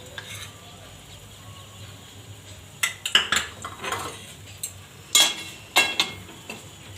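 Three flours roasting in ghee in a pan for methi pak, stirred with a spoon: a soft steady sizzle with bursts of close scraping and clinking strokes against the metal.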